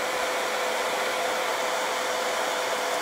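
A hair dryer runs steadily at close range, blowing on Dollar Tree acorn scarecrow craft pieces to dry them, a loud continuous rushing whoosh with no change in pitch and no voices.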